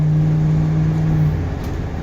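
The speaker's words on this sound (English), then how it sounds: "So the LS1 runs very well." Steady LS1 V8 engine running in a truck, a loud low drone with a strong tonal hum that softens slightly near the end, no voices.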